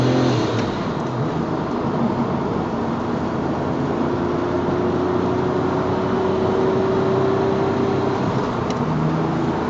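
Twin-turbo Porsche GT3 with 710 hp and all-wheel drive accelerating hard, a continuous loud engine roar with a slowly rising tone heard from inside the car, no voices.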